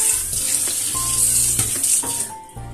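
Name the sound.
washing chicken meat with water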